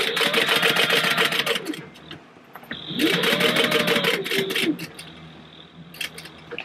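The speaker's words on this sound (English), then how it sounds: "I'm gonna very slowly backstitch." A sewing machine slowly backstitching purse panels for an accordion-style bag, running in two steady whirring passes with a short pause between them, followed by quieter mechanical clicks.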